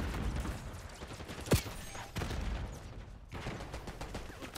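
Call of Duty gunfire crackles in dense, rapid bursts throughout, with one sharper crack standing out in a busy, noisy firefight.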